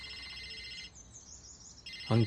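A telephone ringtone trills in two bursts separated by a short quiet gap, the second burst ending in a louder low thump.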